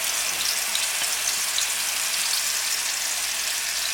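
Leftover chicken masala sizzling in hot oil, a loud, steady, close frying hiss that holds unbroken throughout with no talk.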